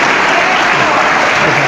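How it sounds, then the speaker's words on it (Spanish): Loud, dense applause from a church congregation, a steady wash of clapping filling the whole short moment. "Muchas gracias. Aplauso."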